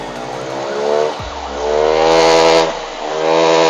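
A motorcycle engine that stalled after riding through floodwater, its air filter found wet and replaced, is revved lightly a couple of times. The steady close engine note swells briefly, with no talk.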